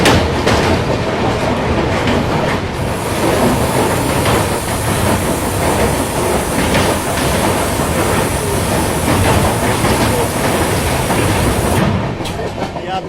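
Goa Rajdhani Express rolling into Surat station past the pit lines, a loud, steady rumble of coaches with rhythmic wheel clatter and rail noise filling the whole stretch, easing slightly at the end.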